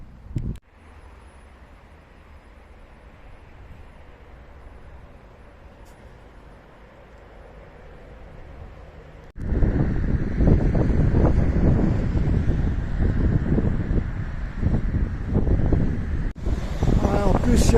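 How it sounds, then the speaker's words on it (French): Wind buffets the microphone with a low rumble near a mosque in Turkey, growing much louder and rougher partway through, with road traffic noise mixed in. "il y a du vent et le bruit de la route"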